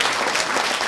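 Audience applause at an Abruzzo rugby event, a dense steady patter of many hands clapping close by, filling the short moment without pause.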